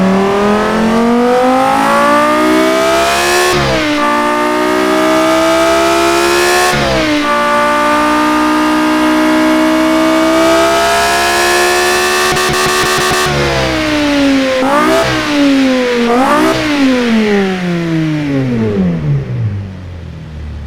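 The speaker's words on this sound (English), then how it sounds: "let's fire up this beautiful, awesome V10." A loud V10 engine revs repeatedly, pitch climbing through each long rise then dropping sharply before the next, ending in quicker blips and fading down.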